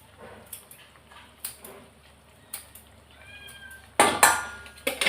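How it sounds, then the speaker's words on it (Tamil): A cat meows softly in a home kitchen during cooking of an egg omelette and dried-fish curry, a short drawn-out cry followed by a louder burst of clatter and rustling close by. "பூனை."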